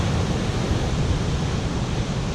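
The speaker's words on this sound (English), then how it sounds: "It's really windy and the surf's big" Big surf and strong wind at Ormond Beach, Florida, make a steady, dense roar of breaking waves and gusting air, loud and continuous with no voices.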